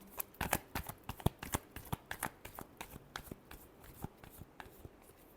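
Tarot cards are shuffled by hand up close, making a quick series of crisp flicks and papery riffles that fade slightly toward the end, with no voice.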